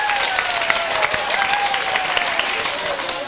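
Crowd applause at a live concert event voting for a song, a dense, even wash of clapping throughout, with a faint sustained tone running beneath it.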